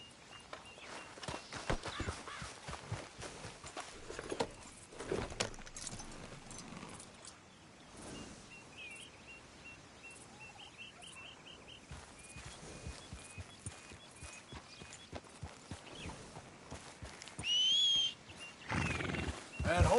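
Horse hooves clip-clop at a walk in Red Dead Redemption 2, with occasional whinnies and light ambient game sounds, steady and moderately near through most of the stretch.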